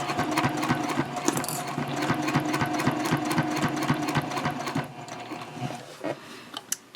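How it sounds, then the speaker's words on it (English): A sewing machine runs steadily, top stitching a messenger bag with a quick back stitch at the start, its rapid needle clatter close and continuous before slowing and stopping near the end. "Just going to give a little back stitch here as I start."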